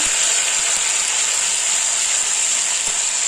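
Chili paste hits hot oil in a pan while paneer masala cooks, giving a steady, close sizzle with a bright hiss that holds evenly throughout and has no talking over it.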